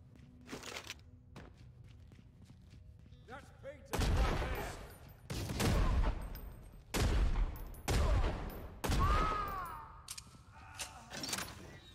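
Heavy magnum hand cannon firing in the video game Necromunda: Hired Gun, four loud booming shots with long tails spaced about a second apart, preceded by quieter clicks and small weapon sounds.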